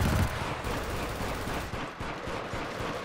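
Rapid automatic turret gunfire from the video game Killzone Shadow Fall, played in an online multiplayer match, rattling continuously and loud for the full stretch with a heavy burst at the start.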